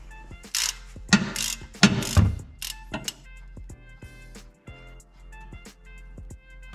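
A ratchet clicks in short bursts while loosening the transmission drain plug on a 2004 Subaru WRX 5-speed manual. The close, sharp clicking fades into scattered faint metallic ticks, and no one speaks.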